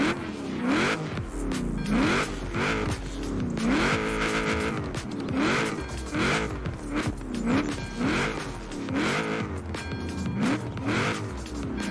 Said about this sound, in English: You guys gotta listen to this car.